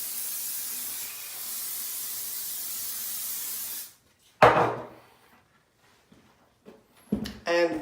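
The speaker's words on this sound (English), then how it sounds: "we're going to just spray over it again." Hairspray is sprayed over a styled hairdo for a Phantom of the Opera Halloween look. A steady, close aerosol hiss lasts about four seconds, then stops, followed by a few soft clunks and handling noises.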